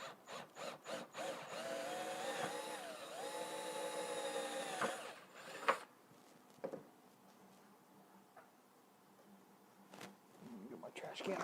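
A power drill bores a 3.5mm hole in aluminum, whining with a steady pitched drone for about five seconds before winding down. Scattered knocks and handling noises follow at a lower level.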